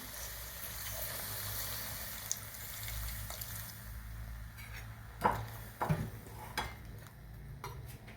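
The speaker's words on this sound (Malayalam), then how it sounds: "പിന്നെ കുറച്ച് വെള്ളം ഒഴിക്കുക" Water splashes into a pot holding three raw Robusta plantains for kurukku kalan, a steady rushing pour in the first half that thins out, followed by a few sharp clinks of a utensil against the pot.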